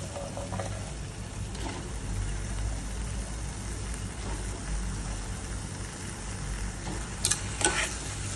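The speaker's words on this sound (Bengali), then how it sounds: "এবারে ঢেঁড়সগুলো দিয়ে দিচ্ছি।" Okra dropped into a pan with a little water for a Bengali dherosh chorchori, hissing steadily with a low sizzle and scraping stirs, plus a couple of brighter clatters near the end.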